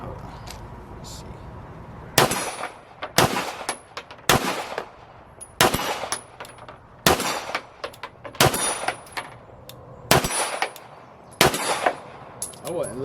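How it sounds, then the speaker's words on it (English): A Staccato-P or Glock pistol fires off the rest of a magazine on a range, with about nine sharp, loud shots at irregular intervals, each ringing briefly, over faint background noise. "let me finish this mag real quick"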